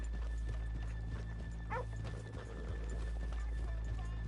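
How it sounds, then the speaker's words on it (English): Horses in the video game Red Dead Redemption 2 clop their hooves and give a short whinny amid soft outdoor ambience, fairly quiet and with no one talking. "let's leave the horses here off the main drag"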